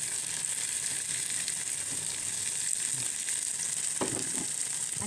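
Zucchini and tomato frying in a pan, a steady, bright sizzle with a few soft scrapes of stirring, close and continuous; no talking.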